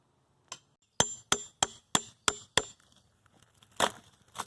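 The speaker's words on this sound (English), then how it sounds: "This is just a putty knife" A putty knife prying bark off a log outdoors makes a rapid series of about six sharp, loud cracking snaps, followed by quieter scraping and one more crackling burst.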